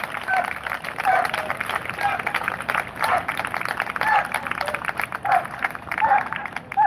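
An audience at a working dog demonstration gives a steady round of applause, a dense patter of many hands clapping at moderate distance that swells and dips over several seconds.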